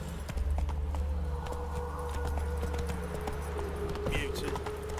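Horse hooves clip-clop in a steady rhythm in The Witcher 3, close and moderately quiet, with a faint voice and ambient game sounds underneath.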